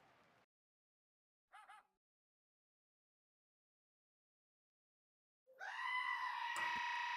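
After near silence and a couple of short bursts, a loud, sustained bleating cry rings out from a wrestling crowd imitating goats.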